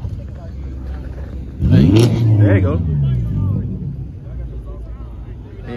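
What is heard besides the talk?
car engine revving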